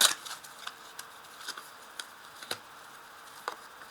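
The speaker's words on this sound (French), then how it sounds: "Alors, je vais ajouter des cartes." Tarot cards being shuffled and laid down, a series of short crisp slaps and flicks at roughly half-second intervals, close and fairly quiet, with no talking.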